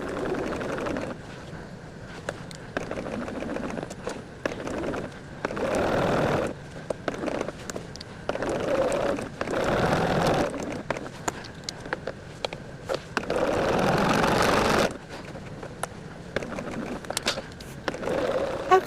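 A sewing machine stitches quilt block seams for a basket-pattern sampler block, running in short bursts of rapid whirring separated by quiet pauses, fairly soft and close.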